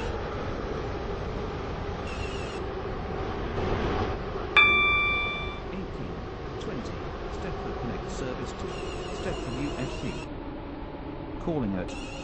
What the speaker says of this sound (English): This train is now approaching Whitefield Lido.